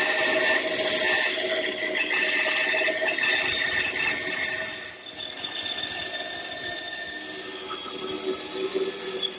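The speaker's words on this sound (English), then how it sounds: "then I head over to the bandsaw" A bandsaw cuts a traced wooden blank for a media press in a woodshop, giving a steady whirring drone with a brief dip midway and no talk.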